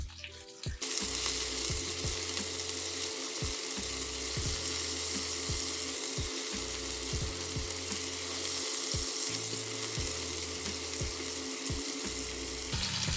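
Steak searing in a pan while a press is held lightly on it, giving a steady loud sizzle throughout with repeated low thumps and clatter underneath.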